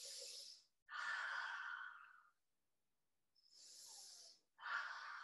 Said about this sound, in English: Let's do 3 breaths.